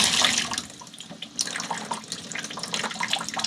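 Cold water running from a sink faucet in a 2024 Ford Transit 250 camper van, a steady splashing hiss that sputters as air mixes in, then flows more evenly, close and fairly loud with no talking.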